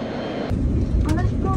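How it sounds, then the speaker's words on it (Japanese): Steady, loud low roar of engines fills a China Airlines business-class cabin on descent from Taipei Songshan into Haneda, with a voice speaking briefly over the constant drone. "この飛行機は間もなく目的地に到着いたします。"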